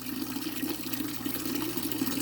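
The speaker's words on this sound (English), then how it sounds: "any water that's left in the column itself will run back down into the tank" Water drains from an aquarium siphon column back down into the tank, a steady continuous trickling and rushing wash with no talk.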